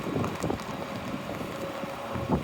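Strong wind gusts buffet the microphone while walking downtown in heavy rain, a steady broadband roar with rising and falling surges and no talking.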